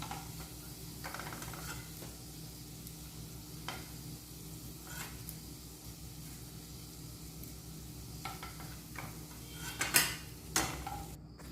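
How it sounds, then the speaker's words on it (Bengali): Chicken tikka patties frying in hot oil in a home kitchen, a steady soft sizzle and hiss throughout, with occasional light clinks of utensils and pans near the end. "বাকি টিক্কিগুলো আমি একইভাবে ভেজে নিচ্ছি"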